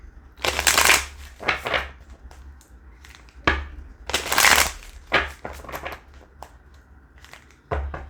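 Affirmation cards being shuffled close up, in several bursts of crisp riffling and slapping with short quiet pauses between them.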